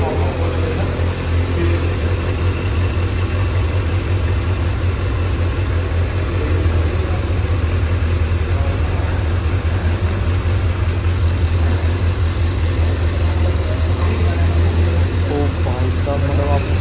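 A 2024 Kawasaki Ninja ZX6R sport motorcycle engine roars continuously at high revs, loud and close, with a steady deep rumble throughout.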